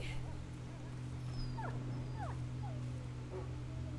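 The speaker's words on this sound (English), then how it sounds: "Oh, I hear the dog whimpering." A dog whimpers in the video game A Plague Tale: Innocence, giving several faint, thin rising whines over a steady low background hum.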